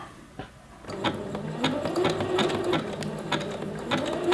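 A sewing machine runs at short stitch length with the needle down, attaching elastic to a waistband, its motor whirring steadily with rapid rhythmic needle clicks, close and alone.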